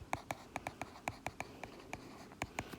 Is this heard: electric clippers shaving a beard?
no